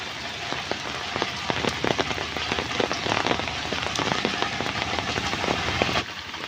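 Heavy monsoon rain during a village storm pouring steadily onto roofs and surfaces, a dense continuous hiss dotted with sharp drop impacts, loud and close throughout.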